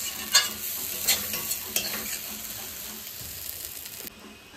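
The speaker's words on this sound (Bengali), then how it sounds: "খারকোল পাতা ভাজা হয়ে গেছে, এবার নামিয়ে নেবো" Kharkol leaves fry in a pan with a steady soft sizzle, punctuated by several sharp scraping clicks of a spatula stirring, then the sizzle drops lower near the end.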